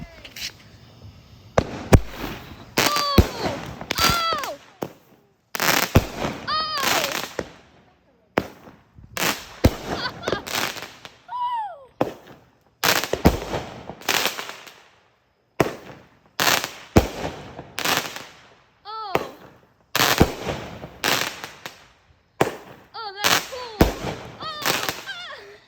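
A consumer fireworks cake fires a rapid series of sharp bangs and crackling bursts on the 4th of July, the shots coming in repeated loud clusters with short gaps. Voices are heard faintly among the explosions.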